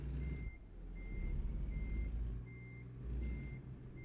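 Heavy truck engine rumbling steadily in American Truck Simulator while a reversing alarm beeps in a regular pulse, about five evenly spaced tones over the low drone.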